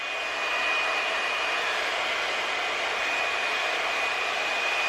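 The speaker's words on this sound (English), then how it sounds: "The hairdryer is really good. It does blow out your hair." A hot-air hair dryer blows steadily and loudly throughout, giving a continuous rushing whoosh with a thin, high whine and no pauses.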